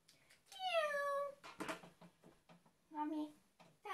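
A cat meows twice, a long drawn-out mew followed by a shorter one after a brief knocking clatter, close and clear in a quiet room.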